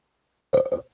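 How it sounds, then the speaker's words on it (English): A single close burp in a quiet podcast room, a short voiced belch that breaks into two or three quick pulses after silence and fades within half a second. "I burped."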